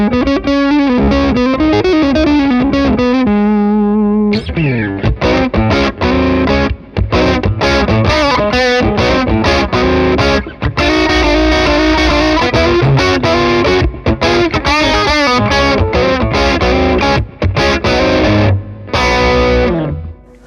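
An electric guitar runs through a Dumble-style overdrive pedal with the gain at halfway, playing sustained chords and then busy riffs, loud and close with a thick, saturated crunch and no talking.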